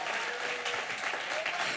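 A church congregation applauds in a steady, dense wash of clapping that continues throughout, with a voice faintly present beneath.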